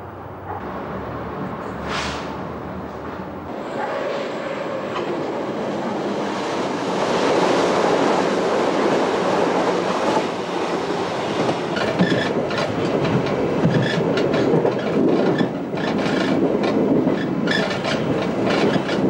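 A Berlin S-Bahn class 480 train on a test run over a line restored for 80 km/h, with a steady rolling roar that builds and holds, wheels clattering over the rails, close and loud with no talk.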